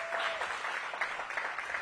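Brief, fairly faint crowd applause at a ribbon-cutting event for an urgent care center, scattered clapping lasting under two seconds.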